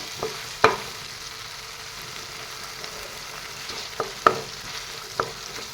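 Ginger, garlic, green chilli and coriander paste frying in oil for a koi fish curry with brinjal and tomato, with a soft steady sizzle broken by a few sharp spoon clinks against the pan.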